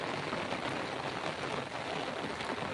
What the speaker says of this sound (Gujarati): તો બહુ વરસાદ પડે છે યાર અહીંયા